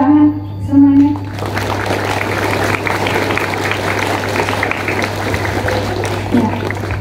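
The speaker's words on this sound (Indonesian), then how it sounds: "Tepuk tangan semuanya." Students and staff at a school ceremony for National Education Day break into a broad, steady wash of applause after a moment of brief tones, all over a constant low electrical hum.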